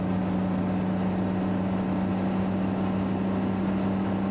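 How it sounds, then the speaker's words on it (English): Steady drone of a Cessna 206 Stationair engine in FSX, a flight simulator game, holding a constant hum with a faint rise in pace as the mixture is leaned. "You can hear the engine picking up and speeding up by a little bit"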